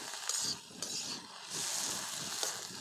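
Vegetables fry in a pan with salt and chili while they are stirred. A steady hissing sizzle carries scraping and stirring noises, heard up close and with no talking.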